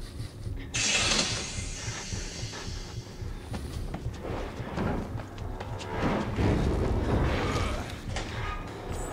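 A valve being turned in Outlast gives off mechanical ratcheting and creaking clicks, a sharp hiss near the start, then uneven grinding turns amid dark ambient noise.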